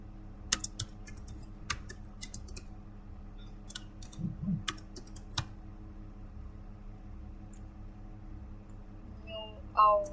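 Computer keyboard typing while entering a chown command in a Linux terminal: sparse, quiet individual key clicks spread irregularly over several seconds, under a faint room hum.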